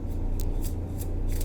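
Tarot cards being shuffled by hand, a steady close papery riffle with a few brighter flicks, heard alone with no talking.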